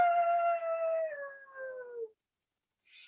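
A person imitates a dog howling in heat, a single drawn-out wavering howl that slides downward and breaks off, followed by silence and a faint breathy sound at the very end.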